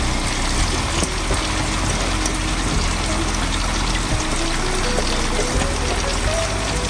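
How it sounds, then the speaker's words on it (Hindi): Soaked maash lentils poured into a kitchen pot after their soaking water is drained, giving a steady wet rushing, trickling pour that runs continuously and close up, with no talking. "अब मैं इसमें भीगी हुई दाल डाल दूँगी, इसका पानी निकाल के।"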